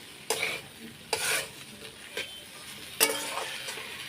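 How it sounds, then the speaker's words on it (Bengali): Leftover meat being fried down in a pan, a soft background sizzle broken by about four sharp bursts of a spatula stirring and scraping, fairly quiet overall. "এখন আমি একটু কষিয়ে নেব ভেজে ভেজে নেবো"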